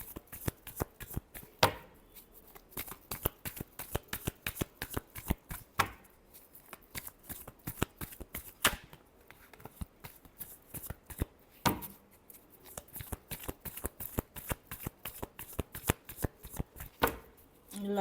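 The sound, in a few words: shuffling tarot cards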